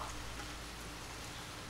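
Rain falling on Mount Cikuray, a steady, even hiss of drops on surfaces that stays constant and fairly loud throughout, with no voices heard.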